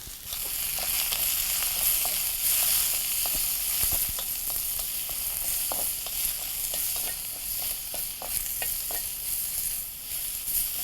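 A whole packet of mushrooms frying in hot oil for pepper mushroom fried rice, a loud steady sizzle with frequent sharp crackles and pops, heard close and without voices.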